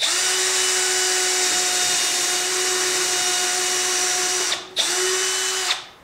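A power drill drives 3-inch deck screws into wood while building a bench from a Chevy tailgate, a steady loud whine running for about four and a half seconds, a brief stop, then a second short burst.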